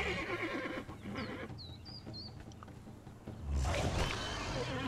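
A horse in the Conan Exiles video game gives a loud whinny near the start, followed by squeaky calls, soft thuds and a burst of rushing noise toward the end.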